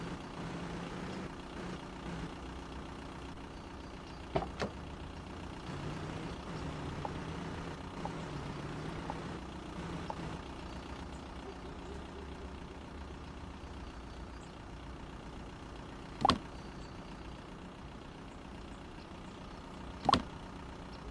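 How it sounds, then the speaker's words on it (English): A video game turbo diesel truck engine in Cargo, Please! drones steadily at low level, with a faint turbo whine and a few brief sharp clicks breaking through. "I think this truck is a turbo diesel. I can hear the freaking turbo."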